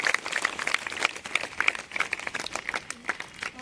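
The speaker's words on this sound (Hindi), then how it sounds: "शाबाश, तालियां बजाओ इस बच्चे के लिए।" Schoolchildren at a morning prayer assembly clap for a classmate, a lively patter of many small hands with uneven, fluttering rhythm, close and moderately loud with no speech over it.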